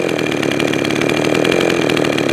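A Jonsered 525 chainsaw engine idles close by, a steady, fast-pulsing two-stroke putter with a rough, buzzy tone and no talking.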